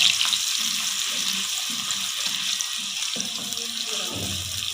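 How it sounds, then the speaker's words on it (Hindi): Lengthwise-sliced onion fries in a pan for a dal and bottle gourd curry, giving a steady, moderate sizzle with faint low clatter and murmurs underneath. "1 प्याज लिया है मैंने, जिसको मैंने लंबाई में कट कर लिया। वो हम इसके अंदर शामिल कर देंगे और इसको हम फ्राई करेंगे।"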